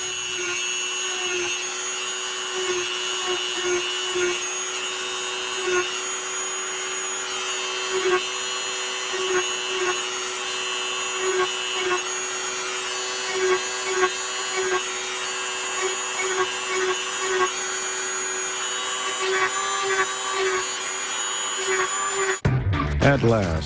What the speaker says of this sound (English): so let's hit it with the Dremel tool.